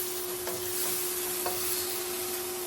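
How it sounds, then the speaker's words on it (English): Spring onion and garlic stir-frying in a pan, giving a steady, close sizzle with a few soft stirring knocks and a constant faint whine in the background. "Let's drop in a bit of spring onion."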